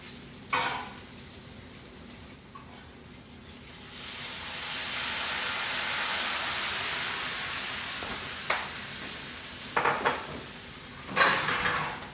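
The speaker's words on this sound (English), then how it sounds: "we're going to add in broth right now" Broth poured into a hot pan of caramelized wild ramps sets off a swelling hiss and sizzle that rises and settles, with a few sharp clinks and scrapes of a utensil on the pan.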